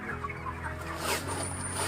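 Hens cluck steadily in a busy poultry shed holding about six thousand chickens, with a low constant hum underneath and no talking.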